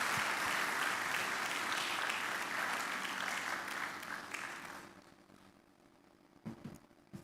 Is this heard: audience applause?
yes